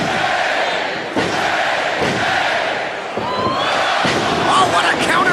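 A wrestling arena crowd at a TNA Impact Wrestling Xscape match, a dense, loud roar of cheering and shouting that swells and dips, with occasional slams and a commentator talking over it.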